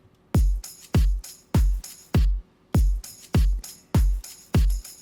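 Programmed percussion loop from an FL Studio chill track: nine evenly spaced punchy kicks with bright hit layers above, steady mid-tempo rhythm, close and loud with no voice.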